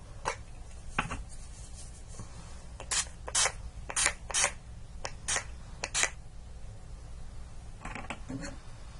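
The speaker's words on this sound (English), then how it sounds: "I'm going to do a quick spritz of the Urban Decay All Nighter Ultra Matte." Urban Decay All Nighter Ultra Matte setting spray misted in a series of short, sharp hissing spritzes with brief pauses between them, close and fairly clear against a quiet background.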